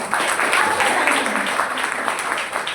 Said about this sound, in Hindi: तो अपने लिए तो तालियां जोरदार मारो